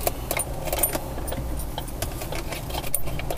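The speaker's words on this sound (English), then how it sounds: "rustling through all of his change in the center console" Loose coins rustling and clinking in a car's center console as a tow truck driver rummages through them, a soft, continuous jangle with scattered small metallic clicks.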